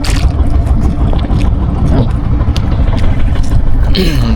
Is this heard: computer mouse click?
no